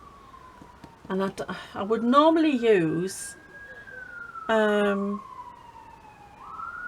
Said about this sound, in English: excuse the sirens going off